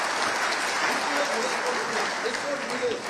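A crowd at a parliamentary speech on sports development applauds the sports minister in a dense, continuous patter of clapping that holds steady and fairly loud throughout.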